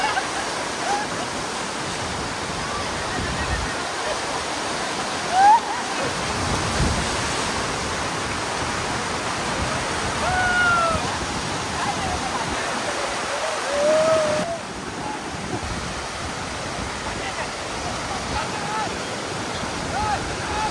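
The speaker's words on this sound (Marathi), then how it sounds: "मित्रांनो पाण्याला प्रेशर बघा तुम्ही फक्त" Water rushing hard at Barrage Dam in Badlapur, a loud, continuous roar like a waterfall, with faint voices and a few brief bird calls over it.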